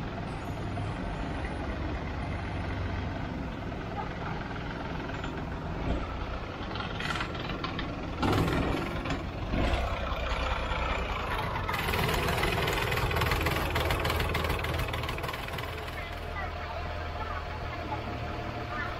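A longtail boat engine drones steadily throughout on the River Kwai, a loud rumbling motor with broadband water and wind noise, rising slightly toward the middle.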